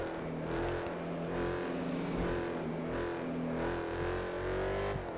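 A Jeep SRT engine in the GTA 5 video game holds a steady, throaty drone, rising and swelling slightly as it revs, with faint tire noise underneath.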